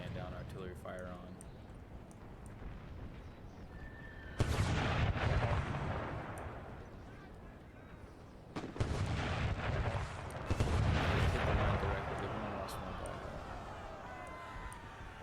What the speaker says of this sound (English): he's got a division right here that I'm laying down artillery fire on